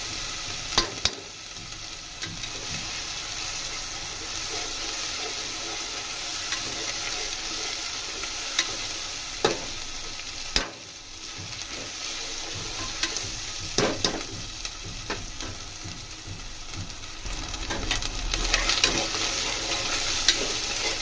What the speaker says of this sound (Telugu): అల్లం వెల్లుల్లి పేస్ట్ కూడా పచ్చి వాసన పోయే వరకు ఫ్రై చేసుకుందాం